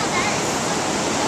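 Heavy, steady roar of the flooding Big Thompson River rushing high near a bridge in Loveland, Colorado, a broad continuous wash of water noise, loud and close throughout.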